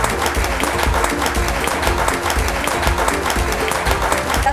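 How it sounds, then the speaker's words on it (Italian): Loud, continuous applause from a crowd greeting a restaurant and pizzeria team, a dense and even roar of clapping hands filling the space throughout, with music or a low rhythmic thump underneath. "chiamiamo il team con un grande applauso"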